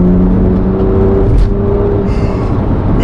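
A BMW M2 accelerating on the road, heard from the cabin as a loud, steady low engine drone and tyre rumble with a rising hum, a brief clunk midway.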